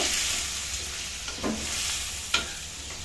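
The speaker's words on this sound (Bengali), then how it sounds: "এগুলো একটু লাল লাল করে ভেজে নেব" Prawns frying in hot oil until reddened, a soft continuous sizzle with a couple of sharp stirring scrapes of a utensil against the pan, quiet and close, no voices.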